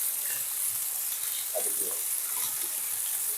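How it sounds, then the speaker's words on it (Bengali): Hard mixed vegetables such as potato fry in a pan, with a steady, moderate sizzle and one brief stirring scrape near the middle, and no voices. "এগুলোকে আমি ভালো করে ভেজে নেব।"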